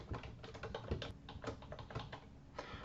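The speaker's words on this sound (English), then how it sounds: "I'm going to type in this line" Fast typing on a computer keyboard while entering a line of code for an Access database dropdown, a steady run of close, crisp key clicks with a few louder strokes, no speech.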